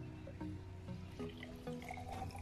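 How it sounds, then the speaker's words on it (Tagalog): Water poured into a container holding indoor plants grown in water, quiet trickling and dripping with small splashes, faint and close. "lagyan po ulit natin siya ng tubig."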